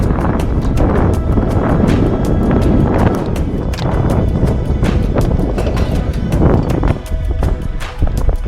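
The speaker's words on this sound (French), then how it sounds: "Le vent s'est bien levé." Strong wind buffets the microphone on a marina pontoon at the Moroccan coast, a steady loud roar with gusty surges throughout, no voices.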